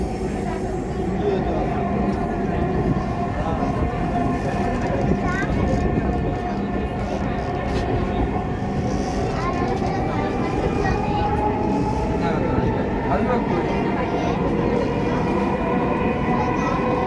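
A metro train rumbles along with a constant loud roar and faint squeals of the rails, heard from inside the carriage in Dhaka as voices talk underneath.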